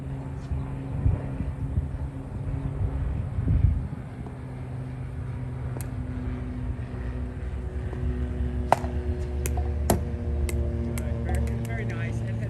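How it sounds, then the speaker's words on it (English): A Bread & Butter Loco pickleball paddle strikes balls outdoors, giving several sharp, slightly hollow pops in quick succession toward the end over steady wind and background rumble. "This paddle has a little hollow sound when you hit it."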